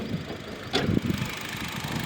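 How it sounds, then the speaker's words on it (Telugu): A 2009 petrol Honda Jazz engine idles with a low, steady rumble, quiet and smooth, with a brief clatter partway through. "చాలా సైలెంట్ అండ్ సైలెంట్ ఉంది ఇంజను"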